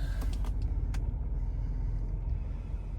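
A 2022 Ford Explorer Platinum idles just after start-up, a low steady engine rumble heard from close by with a few light clicks early on and no talking.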